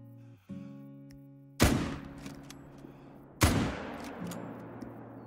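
Two sharp rifle shots crack out about two seconds apart in a hunting video game, fired at a piebald whitetail deer, each with a long echoing tail over a low steady hum and faint tones.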